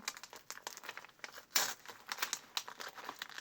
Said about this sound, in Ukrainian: Я прям вже відкрила цей пакетик